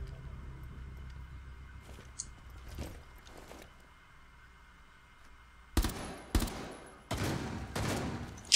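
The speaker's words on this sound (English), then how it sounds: "I don't know who's shooting at me, I don't know what gun that is" Gunfire in Rainbow Six Siege arrives as rapid loud bursts and single sharp shots, first muffled and more distant, then close and forceful in clusters over a quiet, steady game background.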